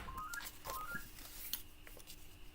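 A telephone ringing indoors at a home crafting session, a run of short electronic tones repeating at a steady pace, moderately faint over room noise.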